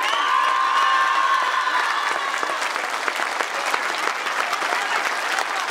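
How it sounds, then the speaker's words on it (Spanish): An audience applauds the teachers at a public event, with steady, dense clapping from a sizable crowd held for several seconds. A few scattered cheers rise out of it before it thins slightly toward the end. "un aplauso para ellos"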